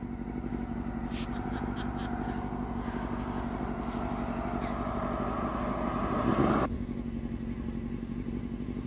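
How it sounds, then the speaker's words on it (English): A truck passing on a road on New Year's Day, a steady engine rumble that grows louder and peaks before cutting off sharply, with faint talk nearby. "Yeah, there's a truck."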